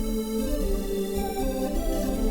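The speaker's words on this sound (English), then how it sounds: "So for my next instrument, I'm going to be using this sound called Glass Space," Glass Space synth preset from Alchemy in Logic Pro, a sustained glassy pad-like lead with layered bright harmonics and a steady low drone, playing alone without talk.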